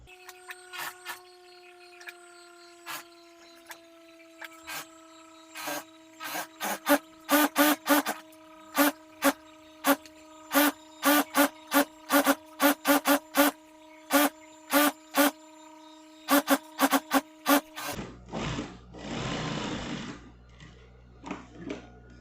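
Home sewing machine stitching all the way around a baby nursing pillow, running in rapid bursts with short pauses between them, loud and close, followed by a quieter shuffling of fabric at the end.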